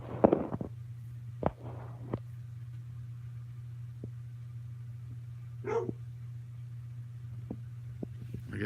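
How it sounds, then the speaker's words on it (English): A dog barks at home, giving a few sparse, faint barks spread over several seconds against a steady low hum. "I guess Melanie's gonna let the dog bark."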